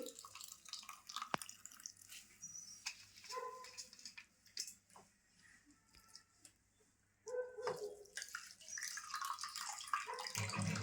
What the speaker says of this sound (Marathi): तर मी स्वच्छ अशी धुवून घेते